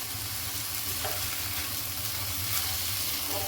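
Tomato masala with salt, red chilli and turmeric frying in a pan, a dense steady sizzle with occasional light stirring taps, close and continuous without pause.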